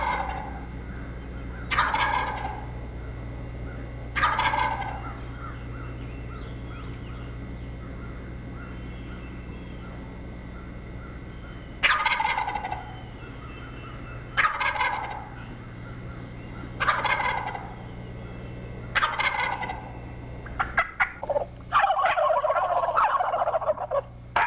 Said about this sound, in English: We're doing some examples of gobbling.